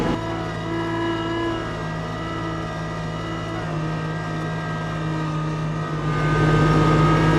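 A Kubota LX2610 compact tractor in low gear and four-wheel drive works at high RPM clearing heavy wet snow through a blower chute, a steady close diesel drone with a strong load hum that swells louder toward the end.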